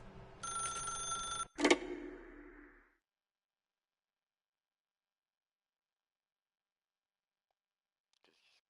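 An old-style telephone bell rings in the video game The Stanley Parable, one short burst followed by a click, then near silence.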